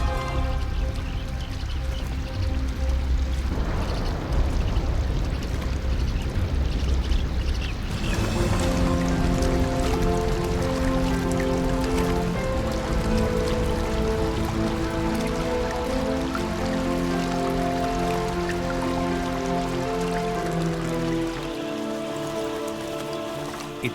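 Heavy rain pours down in the Australian wilderness, a dense, continuous hiss of drops pattering on surfaces, with a shift partway through as a fuller, tonal layer joins the downpour and carries on steadily.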